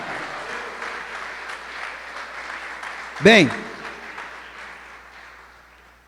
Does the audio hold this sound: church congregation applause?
yes